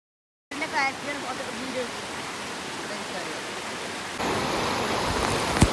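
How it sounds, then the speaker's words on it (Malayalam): Steady broadband rush of falling water, loud and continuous, under a voice speaking at first; the roar grows stronger and harsher near the end. "ഇനി വെള്ളം വരുന്ന ഭാഗമുണ്ട് മനോഹരമായ ഒരു വെള്ളച്ചാട്ടം"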